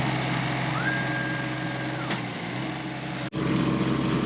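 A water-jet drilling machine boring into hard ground runs with a steady mechanical engine drone, straining, with a brief rising whine and a sudden momentary cutout before it resumes.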